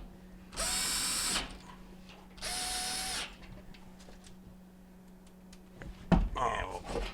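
A power drill driving screws with a square bit into the back panel of a Frigidaire gas stove, model FGF368GMD: two separate whirring bursts of about a second each, close and loud, then some handling clatter.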